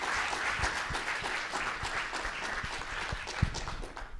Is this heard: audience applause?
yes